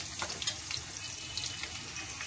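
Cumin seeds dropped into hot oil for a dhaba-style chana masoor dal, giving a soft, continuous sizzle with light crackles, fairly quiet and brief, with no voices.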